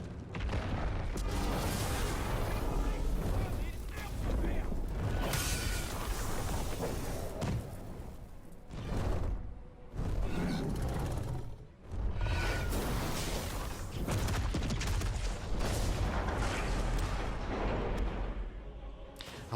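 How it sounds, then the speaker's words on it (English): Living cannon creatures fire in Baldur's Gate 3, heavy booms and thuds with whooshing blasts layered over loud, continuous battle noise and music, with brief dips between volleys. "I like the sort of living cannon things they're using."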